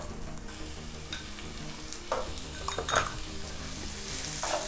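Pineapple prawn fried rice stirred in a hot pan, a steady sizzle with scraping and metallic clinks of a utensil against the pan, several sharper knocks, close and clear without talk.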